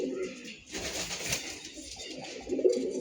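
A Babra breed pigeon coos softly nearby, low murmuring calls rising and falling over a quiet background, with a brief louder flutter near the end.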